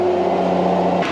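A machine chopping barley straw runs as a steady, loud mechanical drone with a strong low hum, continuous throughout before a brief change near the end.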